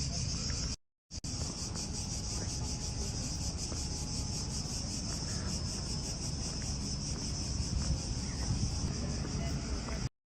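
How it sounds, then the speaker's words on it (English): Dense, continuous buzzing of cicadas fills the air in Athens, Greece in July, a steady high-pitched drone with no pauses apart from a brief cut near the start. "I hear those cicadas."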